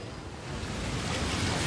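A river overflowing after heavy rain in Ambuklao, heard as a loud, continuous rushing roar of water with wind-like buffeting and no voices.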